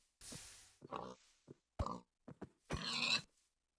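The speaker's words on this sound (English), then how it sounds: "first up this pig" A pig grunts and oinks in the Minecraft video game, several short separate snorts spread over a few seconds, close and clear with no talking.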